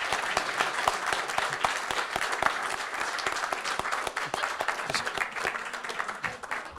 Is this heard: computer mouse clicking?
no